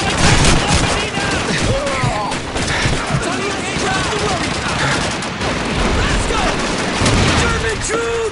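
Dense, continuous gunfire rattles through a World War II battle in the video game Call of Duty 2, with rifle and machine-gun bursts overlapping and shouted voices mixed into the din.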